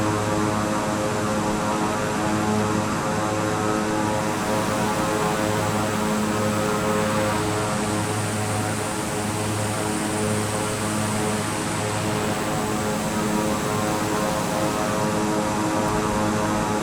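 Propeller drone of an OV-10 Bronco twin-turboprop in Microsoft Flight Simulator on a short-landing approach, a loud steady engine hum with strong harmonic tones holding throughout, no talk.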